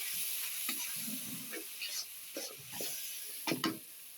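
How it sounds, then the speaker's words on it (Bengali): A little water splashed onto frying masala with softened potatoes in a pan, giving a hissing sizzle broken by scraping stirs and spatula knocks, close by and moderately quiet. "মশলাটা অল্প করে একটু পানি দিয়ে দিব।"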